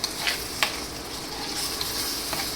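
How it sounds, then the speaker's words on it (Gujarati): Milk poured into roasting semolina (rava) in a pan for rava ladoo, giving a steady, moderate sizzle with a few sharp spatter and stirring clicks, with no voices. "2 વાટકી આમાં દૂધ નાખીએ"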